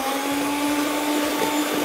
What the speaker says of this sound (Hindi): पहले आपने मक्खन और आइसिंग शुगर को खूब अच्छी तरीके से फेंटना है।